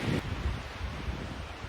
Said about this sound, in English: so it just got super windy, like super loud